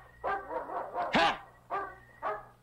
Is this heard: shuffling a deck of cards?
no